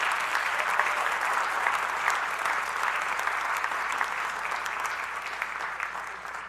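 Sustained audience applause at a high school honors night, a dense, steady wash of many hands clapping that holds evenly for several seconds and tapers slightly at the end.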